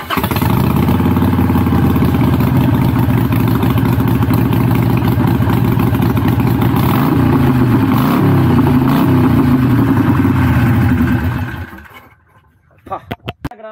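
A Harley-Davidson Iron 883 motorcycle idles with a loud, steady, throbbing engine rumble for about twelve seconds before it cuts off, leaving a few faint clicks.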